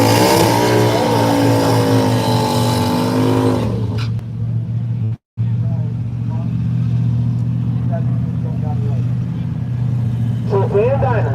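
A drag racing car, among them a 1979 Chevy Malibu, fires up at Brainerd dragway with a loud harmonic rev that rises and falls for a few seconds, then drops to a deep, steady rumbling idle after a brief cutout.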